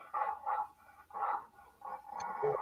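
Pit bull barking, four or five deep, gruff barks in an uneven sequence with short gaps, moderately close, ending in a longer drawn-out woof.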